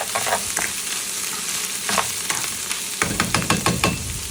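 Onion and green chili fry in hot oil with a continuous crackling sizzle, and rhythmic scraping stirs get busier near the end.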